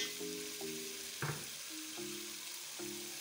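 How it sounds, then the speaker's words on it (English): Tomato paste being stirred in a hot frying pot for Ghanaian jollof rice: a quiet bed of sizzle with a few soft tonal scrapes and one brief spoon clatter, no voices. "Let's give it a good stir."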